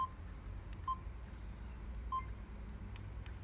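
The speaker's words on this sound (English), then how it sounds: "It's also got a bit of a loud beep to it" Beeps from a Sony DSC-S600 digital camera: a few short, fairly loud electronic tones spaced irregularly over a faint background hiss.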